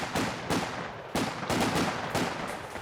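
Machine gun fire in Company of Heroes 2, a real-time strategy game: several sharp bursts of rapid shots about half a second apart, loud and close with no talk.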